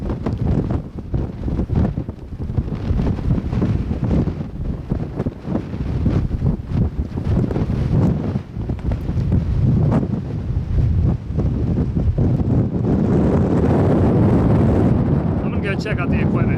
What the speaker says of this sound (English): Really windy up here now.